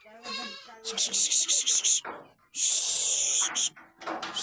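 Goat kid bleating repeatedly in short, high, wavering calls, several in a row with brief gaps, close by on a goat farm, with some background voices.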